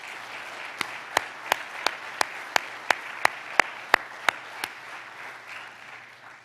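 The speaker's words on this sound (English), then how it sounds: "Give another hand for all our fathers" A crowd at a fatherhood tribute event claps for the fathers being honored, with a dozen crisp, evenly spaced claps in a steady rhythm over a low room hum. The clapping fades to quiet near the end.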